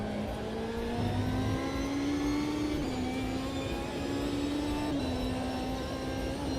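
A racing car engine in a sim racing video game drones steadily and loud throughout, its pitch rising slowly with brief dips at gear changes, with no talk over it.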